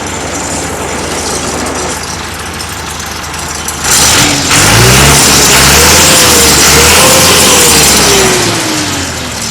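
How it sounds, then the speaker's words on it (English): A loud 86 HP CAT diesel engine on a 2004 Morbark Model 12 Blizzard wood chipper runs steadily, then revs up partway through, the pitch climbing and holding with a heavy mechanical rumble, close by. "Engine runs excellent."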